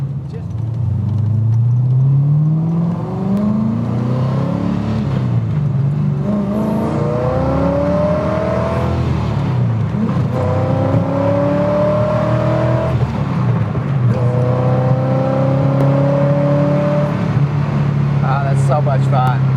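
A Datsun 240Z Z-Beast restomod revs and accelerates on a test drive, its engine note climbing through repeated gear pulls, loud and close from inside the car, with steady road and wind roar underneath.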